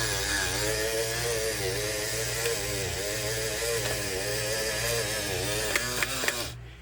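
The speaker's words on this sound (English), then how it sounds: "the clicking sound you hear is the clutch mechanism that keeps going until the user lets up on the switch" A 1959 Cadillac power antenna retracting: a steady motor whir runs throughout with a faint rapid clicking from the clutch mechanism, then stops abruptly at the end.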